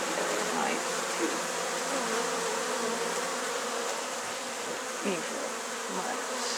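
Honey bees buzz in a beehive as a dense, continuous hum of many wings close by, with occasional individual bees droning louder as they pass.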